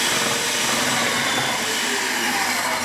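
Electric food processor chopping potatoes into fine pieces, a continuous loud motorized whir with a grinding, chopping texture that holds steady throughout without speech.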